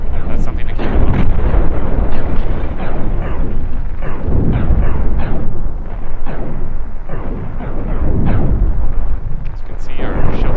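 Dense, continuous barrage of laser blasts and booming explosions from a space battle in the ship-building game Cosmoteer, loud throughout with repeated heavy impacts.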